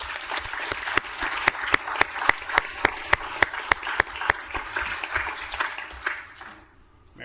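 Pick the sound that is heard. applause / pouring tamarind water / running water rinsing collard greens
applause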